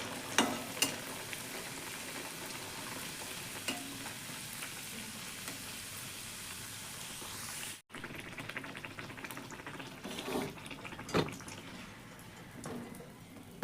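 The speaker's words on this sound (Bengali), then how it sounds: "সব লুচিগুলো ভাজা হয়ে গেল।" Luchi, puffed bread stuffed with potato, frying in hot oil, a steady close sizzle running throughout with a few sharper crackles and stirring sounds, no talk.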